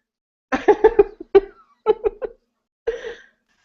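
A person coughs close to the microphone in a rapid cluster of barks, pauses, then coughs in a second burst and once more after a gap.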